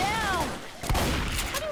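Gunfire in the zombie shooter Left 4 Dead 2 comes as a short burst of sharp shots with a sudden loud crack near the middle, while a player's voice wavers early on.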